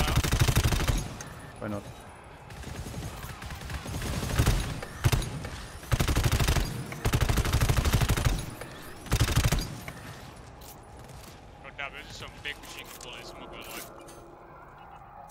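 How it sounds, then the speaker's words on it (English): Loud bursts of machine gun fire in the video game GTFO come as several long automatic volleys, then fade to quieter scattered sounds. A voice briefly speaks near the end. "Why is the machine gun so fucking loud?"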